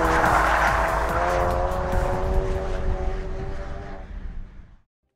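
A Ford Focus RS is driven hard on a circuit, its engine roaring loud and close with rising and falling revs and tire noise, then fading away abruptly into silence.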